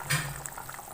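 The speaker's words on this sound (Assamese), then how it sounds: "এইখিনি উতলি আছে পুৰা।" A pot of Assamese fish jalukiya curry base with bhedailota and curry leaves boils over a high flame, a close, steady bubbling with a brief louder burst at the start.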